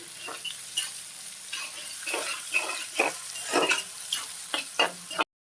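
Egg curry with onion pieces sizzles in a pan while being stirred, close and fairly quiet: a constant frying hiss broken by repeated scraping spoon strokes in an uneven rhythm, with no talking.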